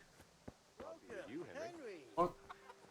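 A hen clucks in the medieval video game Kingdom Come, a run of quiet, wavering clucks ending in a sharper squawk, set among soft footsteps and other faint game sounds.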